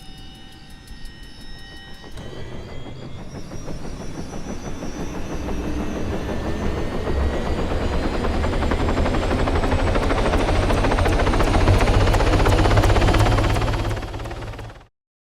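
In the video game Arma 3, a helicopter spins up with a rising rotor whine and rhythmic blade chop that builds to a loud steady roar before cutting off abruptly.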